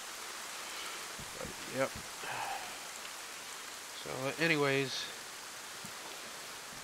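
Steady rain falling in the survival game DayZ, a soft continuous hiss throughout with someone talking briefly over it.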